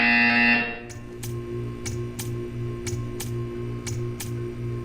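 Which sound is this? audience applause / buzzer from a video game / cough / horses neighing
buzzer from a video game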